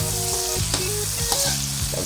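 Onions sautéing in a pan for ginataang langka, a close, crackling sizzle with stirring scrapes and faint tonal squeaks from the utensil, continuous and loud with no speech.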